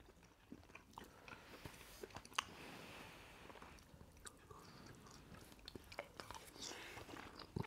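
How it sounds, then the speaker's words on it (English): Close, quiet chewing and biting of fried plantain at a jollof rice meal, with soft wet mouth clicks and crunches repeating irregularly throughout, no talk. "Let's eat plantain."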